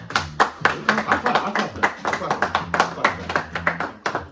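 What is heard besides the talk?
applause, people clapping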